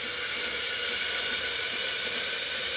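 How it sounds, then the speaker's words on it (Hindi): Raisins sizzle in hot ghee inside a pressure cooker while sweet carrot halwa is made, giving a steady, dense frying hiss throughout with no talk. "किशमिश है, इसको पहले मैं घी में फ्राई कर लूँगी थोड़ा सा।"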